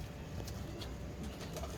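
A teddy pigeon coos in a short, faint, low burble, heard up close against steady background hiss.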